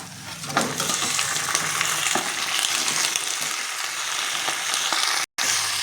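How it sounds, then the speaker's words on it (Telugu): Onions fry in a pan for a simple chicken curry, giving a dense, steady close-up sizzle with faint scraping, unbroken except for a momentary dropout near the end. "ఉల్లిపాయలు వచ్చి వేగిపోయాయి చూడండి."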